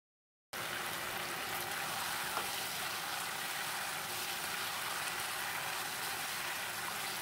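Chicken cooking in a covered pan, a steady even hiss of sizzling that begins abruptly after a brief silence and carries on at a constant, fairly soft level, with no voices.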